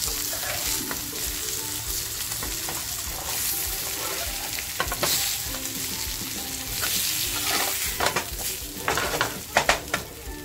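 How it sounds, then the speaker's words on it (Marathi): Pomfret fish frying in a pan after being flipped, a steady close sizzle with scraping and stirring clinks from a utensil, growing busier toward the end. "पापलेटची बघा एक बाजूची छान तयार झाली, पलटी करून घेऊया."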